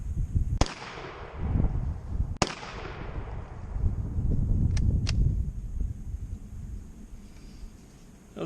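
A Rock Island Armory VR60 12-gauge semi-automatic shotgun fired twice outdoors, two loud sharp blasts a couple of seconds apart, each trailing into a long rolling echo, followed by faint metallic clicks.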